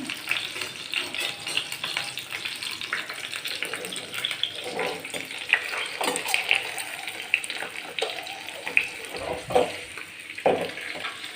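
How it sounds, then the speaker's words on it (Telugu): Dry prawns frying in a pan, giving a continuous crackling sizzle with irregular pops and occasional stirring scrapes, close and moderately loud with no voice over it. "దీంట్లోనే ప్రాన్స్ కూడా వేసేసుకుంటే ఫ్రై అయిపోతుంది"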